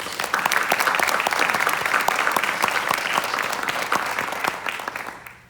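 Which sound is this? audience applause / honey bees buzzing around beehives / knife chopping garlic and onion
audience applause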